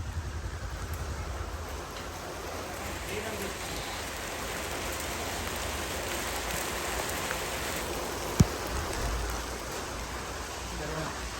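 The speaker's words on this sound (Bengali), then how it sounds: "বেশ বড় বড় বৃষ্টির ফোঁটা পড়ছিল।" Sudden evening rain pours in a village, a steady even hiss of large drops striking surfaces throughout, fairly faint and continuous with one sharp knock partway through.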